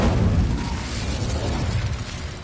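Incendio fire spell cast in the Hogwarts Legacy video game: a dense, roaring burst of flame noise that stays loud and rumbling for a couple of seconds.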